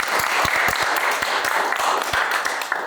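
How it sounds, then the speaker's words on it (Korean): An audience at a Korean policy forum on the real estate market gives a short round of applause, with a crowd of hands clapping densely and some sharper individual claps standing out. "박수 한번 일단 치고."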